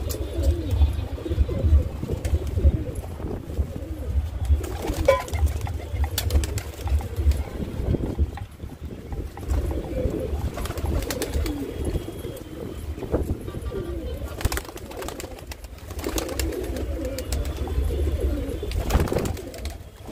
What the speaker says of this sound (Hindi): अब कबूतर इसके अंदर आराम से ये पानी पी सकते हैं